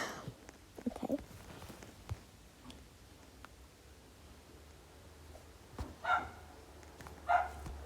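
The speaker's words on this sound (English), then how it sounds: "My dog is barking." A pet dog barks indoors, giving a few faint, distant barks in short bursts spread across a quiet room.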